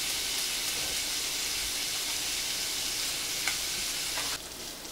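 Bacon frying in a pan, a steady loud sizzle and crackle that continues throughout, with a few brief pops and a slight shift in the hiss near the end.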